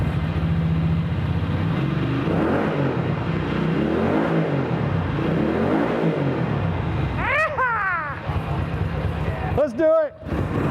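A 1974 Ducati 750 motorcycle engine running loud and close, a steady idle rumble with a few sharp throttle blips rising and falling near the end, with no voices.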